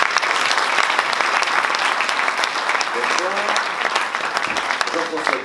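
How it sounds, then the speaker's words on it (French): A business-event audience in Dijon claps loudly as the mayor is called to the stage, a dense, sustained wash of applause with some voices mixed in. "sous vos applaudissements"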